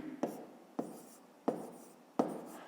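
Pen writing numbers on paper for a maths exercise, four distinct scratchy strokes at regular intervals, close and quiet, with no talk over them.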